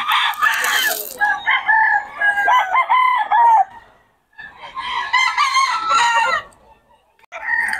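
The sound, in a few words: rooster crowing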